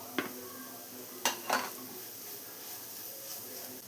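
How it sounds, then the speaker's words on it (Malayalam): Maggi noodles with masala and egg being stirred in a pan: a few soft scraping and clinking strokes of a utensil against the pan near the start, then quiet background hiss. "എല്ലാം കൂടെ നന്നായി മിക്സ് ചെയ്തെടുക്കാം"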